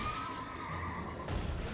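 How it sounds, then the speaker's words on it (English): A horse in the fighting video game Tekken 8 lets out a clear, drawn-out whinny. A low thud follows near the end. "The horse is about to kick the bucket."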